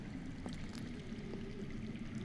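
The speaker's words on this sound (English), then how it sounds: "I hear water. From underground." Water flows underground in the video game Game of Thrones, a steady low rushing and trickling murmur, soft and continuous, with faint drips breaking through.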